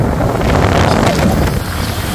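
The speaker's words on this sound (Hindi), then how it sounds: "रास्ते में बारिश आ गई बहुत भयंकर ये देखो।" Heavy rain and strong wind rushing past while riding a motorbike, a loud, steady broadband roar of wind buffeting and rain with no pauses.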